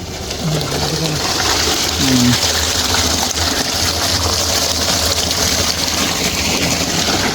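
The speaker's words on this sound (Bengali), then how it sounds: "এখন আমরা পানি লোড করতেছি" Water gushes steadily into a drum as it is filled for pesticide spraying in a lychee orchard, making a constant, close hiss with faint bird calls underneath.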